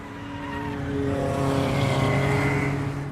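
A race car at Le Mans, its engine holding a loud, steady high-revving drone near the microphone, swelling slightly in the middle and sustained throughout with no talk.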